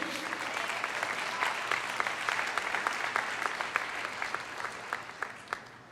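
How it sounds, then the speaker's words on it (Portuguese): An audience claps steadily for several seconds, a dense patter of hands with a few sharper claps standing out, and no voices. "Pode aplaudir."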